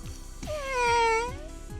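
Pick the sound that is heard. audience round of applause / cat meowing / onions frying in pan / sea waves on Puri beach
cat meowing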